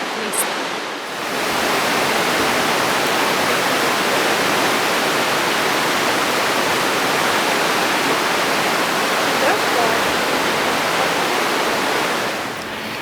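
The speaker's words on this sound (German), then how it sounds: "Durch die Schlucht fließt der Fluss Aare und die Schlucht erhöht die Geschwindigkeit der Aare." The Aare river rushes fast through a narrow Swiss gorge as a dense, steady roar of water. It is loud and close and holds constant throughout, with no other sounds.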